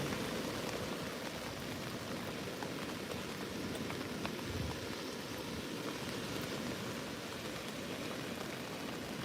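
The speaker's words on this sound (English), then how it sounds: "I'm getting rained on right now" Steady rain pours down outdoors during a bass and smoothhound fishing session on Hayling Island, a dense continuous hiss of drops close by with no speech over it.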